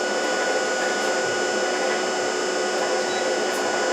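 A generator runs at speed under a 500 watt load, giving a steady, loud mechanical whine and hum with constant tone and no break in level.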